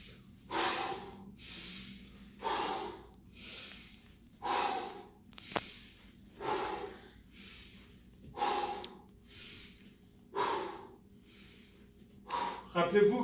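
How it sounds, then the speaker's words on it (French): Slow, rhythmic breathing during a guided exercise class, with about ten distinct audible exhalations repeating every second or so, fairly close and soft, with faint background hum. "J'expire."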